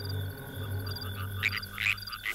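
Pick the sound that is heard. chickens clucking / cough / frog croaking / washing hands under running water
frog croaking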